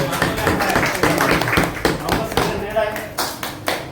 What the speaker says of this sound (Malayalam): എല്ലാവരും ഒരു നല്ല ഒരു ക്ലാപ്പ് കൊടുക്കുക.